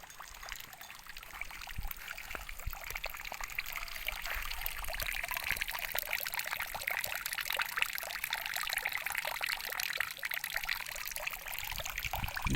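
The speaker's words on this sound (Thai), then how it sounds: "ได้ยินเสียงน้ำย่อยน้ำไหล" Water trickles and splashes steadily and softly, a continuous gentle flow with no voices.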